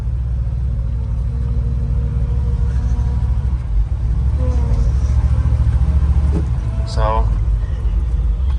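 A 1972 Chevrolet truck with a five-speed gearbox and two-speed rear end is driving, its engine a loud, steady low rumble from inside the cab, with a brief spoken word.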